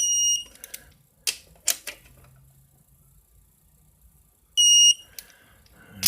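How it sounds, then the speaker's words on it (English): Electronic beeper on a torque wrench during a Ford 4R70W transmission assembly: several short high-pitched beeps clustered near the start and again around the fifth second, with quiet workshop handling noise between. "forgot to turn my beeper on there for a second."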